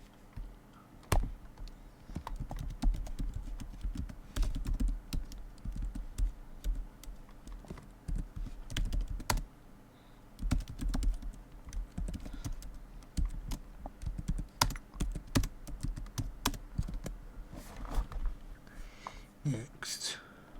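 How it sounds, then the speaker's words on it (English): Someone types on a computer keyboard, producing a long, uneven run of close, crisp key clicks with brief pauses, while a quiet murmuring voice sits underneath. "What I'm going to do is I'm going to type in"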